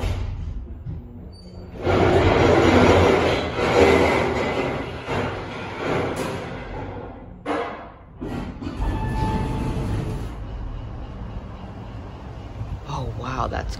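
Steady low mechanical rumble and whir of a KONE MonoSpace machine-room-less traction elevator running at a Metro-North train station, swelling louder for a stretch, briefly dipping, then continuing at a moderate level.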